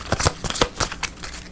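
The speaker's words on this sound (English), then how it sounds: "The mushrooms get shuffled back into the food deck." A deck of cards from a fantasy board game being shuffled by hand at close range, a quick series of sharp riffling slaps and flutters in uneven bursts, no talk.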